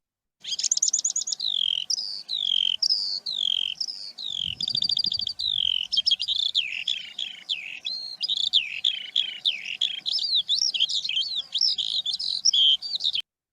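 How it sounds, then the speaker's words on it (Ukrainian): A skylark sings continuously, a long, bright stream of rapid warbling and trilling phrases that runs unbroken, close and clear, with a brief low rumble partway through. "Давайте послухаємо пісеньку жайворонка."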